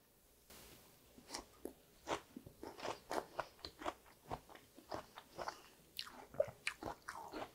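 Someone eats a crisp salad with honey lemon dressing, a close, quiet series of regular crunchy bites and chewing, about two per second.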